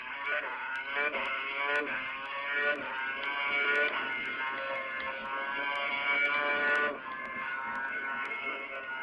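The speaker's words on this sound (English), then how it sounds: "the cars are just going over it and under it." Formula 1 race cars at the 2011 Japanese Grand Prix scream past, a high, harmonic engine whine that climbs with each gear change, heard as a sustained blare that drops away sharply near the end.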